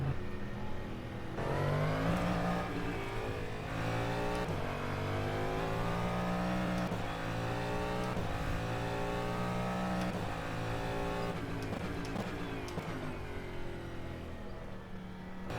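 Cadillac DPi race car in rFactor 2 at Sebring, its engine revving and climbing through repeated gear-change sweeps as it pulls out of the pit lane, loud and steady throughout with no talking.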